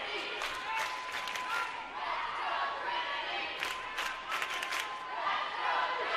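Crowd at a 2019 4A high school volleyball semifinal, Lubbock Trinity Christian against Grace Prep, with a steady loud roar of cheering and chanting, bursts of clapping and shouts rising and falling throughout, and voices mixed in.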